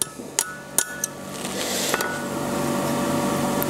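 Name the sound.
hammering a figure 8 on an anvil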